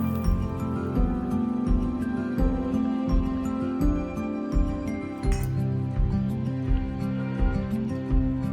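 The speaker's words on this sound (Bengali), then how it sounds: "প্রথমে আমি এটাকে ভালো করে জল দিয়ে পরিষ্কার করে ধুয়ে নেব" Red lentils are washed in a bowl of water, with repeated glassy clinks and knocks of the bowl and a light sloshing of grains and water, close and steady.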